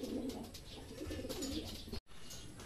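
Soft cooing from a pigeon arriving during a club racing-pigeon training release repeats over a steady outdoor background hum, with faint wing or movement sounds and no talking.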